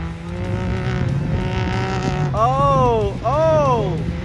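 Can-Am Turbo S UTV racing engine revving hard in a race, with rising and falling turbo whine and a couple of sharp pitch sweeps; people talk over it.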